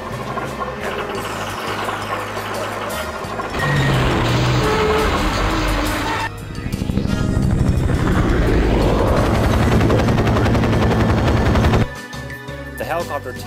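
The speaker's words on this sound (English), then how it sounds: "the helicopter takes 6 rounds to destroy." An attack helicopter in the video game 007 Nightfire thunders with a rotor roar amid gunfire and explosions, loud and continuous with abrupt shifts in intensity as the battle rages.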